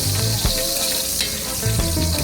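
Garlic sizzling in cooking oil from Baguio in a hot pan (kawali), a steady, close, loud frying hiss with faint stirring clicks and no talk.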